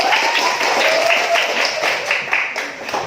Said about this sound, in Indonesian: Tepuk tangan dulu, kasih tangan.